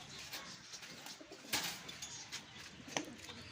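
A male Chanda Khani high flyer pigeon coos softly in short, faint bursts over a steady background hiss.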